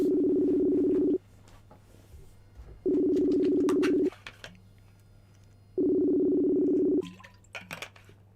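Ringback tone of an outgoing telephone call: three loud, long buzzing rings, each over a second, separated by pauses of about two seconds, with faint background noises in the gaps.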